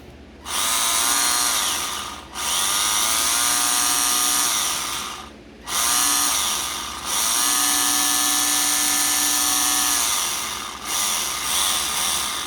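The small electric motor of a Tamiya XR311 RC car whines in repeated bursts with short pauses between them, a high gear-driven buzz that rises and falls close by.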